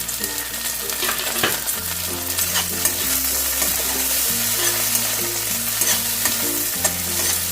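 Onion, capsicum and chopped green chili fry and are stirred in a pan, a loud steady sizzle with repeated scraping strokes over background music.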